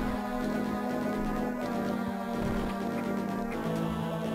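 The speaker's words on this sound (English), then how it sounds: "By the way, what you're hearing right now is technically the credits music." Credits music from the video game Metroid Zero Mission plays steadily throughout, a dense tonal theme with a sustained low bass line and layered melodic notes, loud and alone with no talk.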